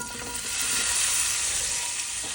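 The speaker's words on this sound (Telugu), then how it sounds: "సో ఇప్పుడు మనం దీన్ని స్టవ్ మీద వేసుకొని వేయించుకుందాం" Rice sizzles and fries steadily in a hot pan on a stove, a dense, continuous crackle at close range with no voices.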